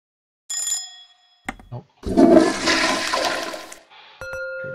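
A toilet flushes in the cooking game Cook, Serve, Delicious, a short gushing rush of water framed by bright chime-like game tones before and after.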